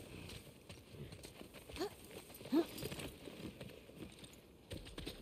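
Faint, rhythmic clip-clop of horse hooves walking in The Last of Us Part II, heard over a low background with a couple of brief vocal sounds.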